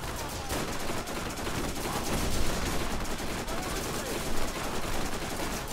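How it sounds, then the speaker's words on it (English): Continuous automatic gunfire from a gun in the video game Borderlands, a steady, fairly faint stream of rapid shots blending into a busy wash of game noise with no clear gaps. "This gun is a lot better than the one I had before. Just bullets everywhere."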